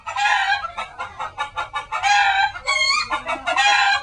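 A rooster and a hen cluck in agitated, rapid bursts, loud and close, the calls overlapping in a frantic run with no talking over them.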